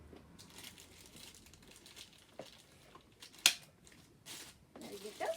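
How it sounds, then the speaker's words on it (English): Plastic hooks of a Nuna Mixx buggy bumper bar click into place with a sharp snap, near and brief, among soft crinkling and handling noises. "So they actually slide into place, and you'll hear a click"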